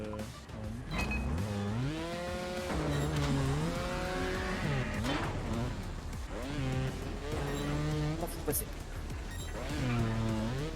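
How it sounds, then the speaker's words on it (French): A motorbike engine in the video game Trials Fusion revs up and down in wavering pitch sweeps, with a loud, excited voice talking over it almost throughout. "Je suis en train de faire de la moto sur le dos quoi."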